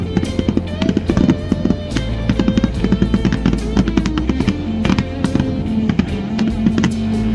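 A loud, steady barrage of fireworks, many sharp booms and crackles piling on each other in quick succession without pause.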